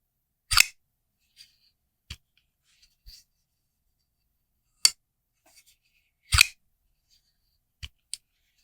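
A Microtech SOCOM Elite knife being opened and closed, giving sharp, crisp metallic snaps: a few loud clacks spaced several seconds apart, with faint small clicks between them, close up and without talk.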